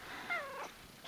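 A cat near the microphone gives a short, soft purring trill with rising and falling tones, then a faint brief sound at the end, with no talking.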